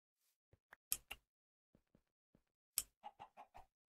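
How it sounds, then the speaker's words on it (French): Chickens clucking in short, separate bursts, a few isolated calls followed by a quick run of five clucks, fairly close and alone with no talk over them. "Oui, cote, cote. Des poules."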